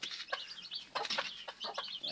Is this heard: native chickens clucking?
yes